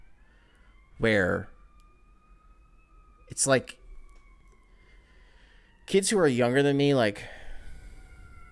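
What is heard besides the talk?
emergency vehicle sirens in the background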